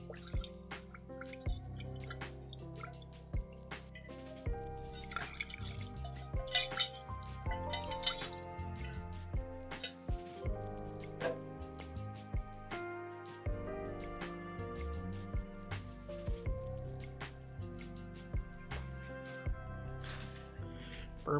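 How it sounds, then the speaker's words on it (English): Water burbles and drips steadily as a paint brush is rinsed. Scattered clinks and taps ring out close by and no one speaks. "Burble water noises."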